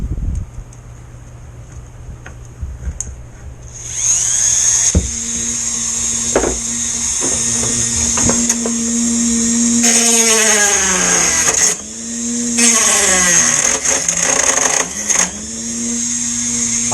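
Trimming an edge during a Zippkits G30 tunnel build: a high motor whine starts up and runs steadily, with repeated rising and falling cutting passes and a few sharp clicks, close and fairly loud.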